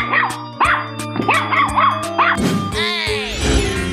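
Cartoon dog barking in an animal transformation game: a quick run of four or five loud, close yips and barks, followed by a swooping sound effect and music.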